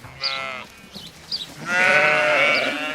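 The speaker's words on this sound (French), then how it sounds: "Les agneaux suivent leur mère dans leur vie de plein air et apprennent à communiquer avec le troupeau dans la langue des bêlements." Sologne sheep, an old brown-headed French breed, and their lambs bleat outdoors in a flock, with a few short cries followed by a longer, louder sustained bleat, close and clear.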